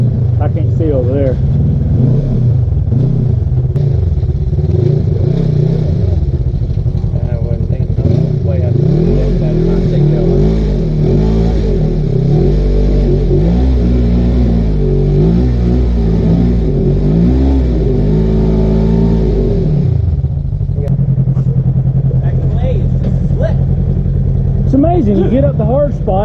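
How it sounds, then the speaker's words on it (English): An off-road vehicle's tires spin on clay on a trail, the engine revving hard in long loud surges with clattering, then easing off toward the end while people talk nearby. "All our own clay, just spinning like crazy."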